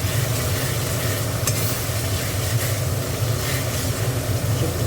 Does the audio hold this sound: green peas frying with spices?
yes